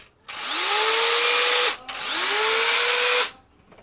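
A cordless power drill whines in two long bursts as it drives screws into very hard wood, each run rising in pitch and straining, with a brief pause between.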